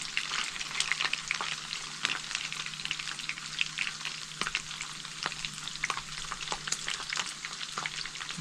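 Food frying in a pan late at night, a steady crackling sizzle with frequent sharp pops and spatters, close and fairly loud, with no talking.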